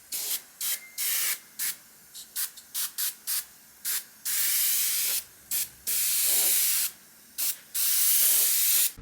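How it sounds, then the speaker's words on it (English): Close hissing bursts from a spray gun painting Porsche 928 door panel parts, first in short rapid pulses, then longer sustained sprays with brief gaps. "That's all I've got to spray at the moment"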